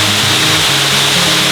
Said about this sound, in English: There you are, Fiona waterfall.